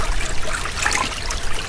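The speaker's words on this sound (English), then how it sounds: "He fills the tub with lukewarm water and settles in." Lukewarm water runs steadily into a bathtub, a continuous close trickling and splashing wash that holds an even level from start to finish with no voices.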